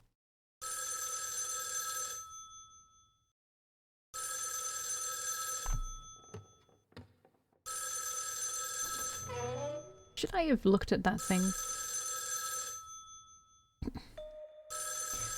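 A telephone rings in the horror video game Spirit Hunter: NG, with steady electronic bursts repeating in a slow cycle, broken by gaps and a brief spoken line partway through.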